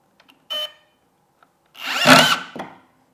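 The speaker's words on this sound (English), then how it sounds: "Make sure you're applying pressure from behind the drill" A power drill whirs in a short burst, then a longer run as it drives a screw into wood, with quiet pauses between.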